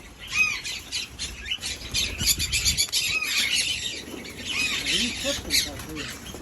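Birds squawk and chirp in loud, overlapping bursts near an owl outdoors, with wing flutters and a person talking over the calls throughout.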